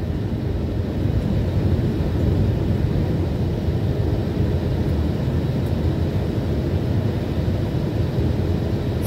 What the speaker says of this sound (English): Gears are definitely going down. And we're slowing down a little. Adding a little power.